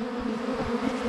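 A honeybee swarm being caught from a tree in May buzzes loudly and continuously, a dense droning hum from many bees close by with no talking.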